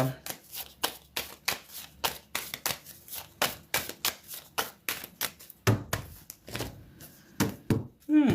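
Tarot cards are shuffled by hand in a steady run of crisp riffles and soft slaps, close and distinct, with a few louder taps toward the end and no talking.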